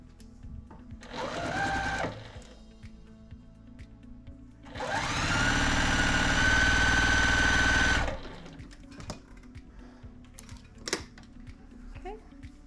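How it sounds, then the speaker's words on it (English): A sewing machine stitches pieced quilt fabric together in two runs, a short burst and then a longer steady whirring stretch of about three seconds, close and clear against a quiet background. "Just pull from behind and sew them all together at once."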